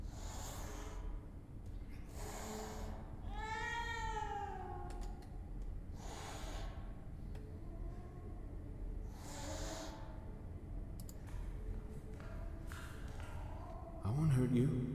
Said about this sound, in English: Goddamn cat. Stray cat.